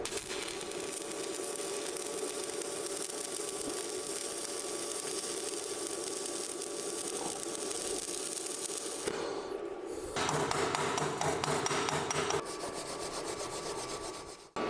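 A weld bead being laid on steel, run as a continuous bead or point to point, produces a steady crackling hiss for about nine seconds, then a brief pause and a harsher buzzing stretch. No one speaks.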